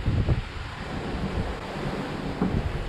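Ocean waves and strong wind around a sailing yacht, an Amel 55 crossing from the Caribbean to Colombia in a rally, heard as a steady broadband roar of wind with swells of surf and a few heavier water surges, no voices.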